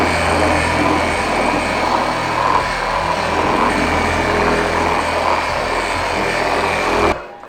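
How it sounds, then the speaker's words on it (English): A polishing machine spreading compound across the bonnet of a VW T5 drones steadily and loudly at close range for several seconds, then cuts off abruptly at the end. "So now I'm just spreading the compound across the bonnet."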